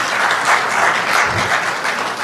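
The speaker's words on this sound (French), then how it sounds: "Applaudissez pour elle." An audience applauds a female student at a year-end ceremony for foreign students in Bejaia, with loud, continuous clapping from a hall full of people that swells in waves over a couple of seconds.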